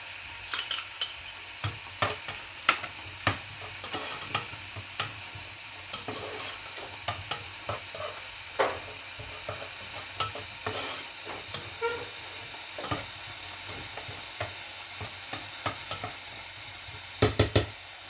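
A spoon stirs a sugar mixture with prunes in a pan, scraping and clinking in irregular strokes over a soft sizzle, fairly close and alone without talk.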